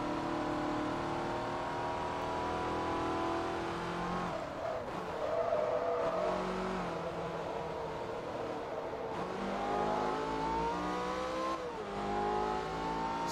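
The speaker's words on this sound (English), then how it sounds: "Such a good sounding engine." Race car engine revving hard in Forza Motorsport 3 during a Stoptech 450HP run-off, a continuous loud roar with rising and falling pitch sweeps as it shifts through gears, with brief tire-scrub moments and no voices.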